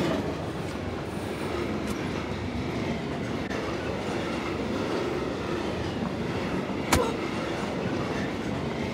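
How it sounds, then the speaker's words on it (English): Train ride in the video game PUBG on the snowy Vikendi map: a steady, continuous rumble of rolling rail cars with faint clicking and one brief sharp clank near the end, heard alone without talk. "I gotta get off the train"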